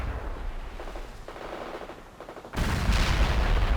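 Mortar strike in a military video game, with rapid crackling bursts of distant fire giving way to a sudden loud, sustained roar of impacts and explosions.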